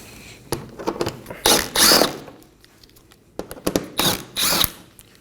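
Power tool or ratchet whirring in two bursts as 10mm bolts come out from under a Toyota Corolla, each run loud and close, separated by clicks and brief pauses.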